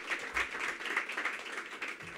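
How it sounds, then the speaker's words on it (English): A small audience claps at a mayoral grants award event, a brief soft patter of scattered applause heard at moderate distance. "Let's give them all a round of applause."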